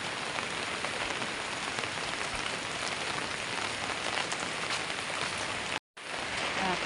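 Heavy rain pours steadily onto surfaces at night in the Philippines, a dense even patter that cuts out for a split second near the end before resuming.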